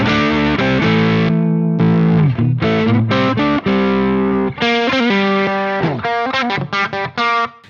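Electric guitar on its bridge pickup played through a Seymour Duncan 805 overdrive pedal, a loud, mid-heavy distorted tone with sustained chords and quick riffing, alone and up close.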